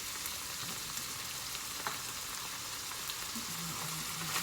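Grated medium-sized tomato hits a hot pan while making börek filling, giving a steady, dense frying sizzle throughout with a faint clink or two, and no voices.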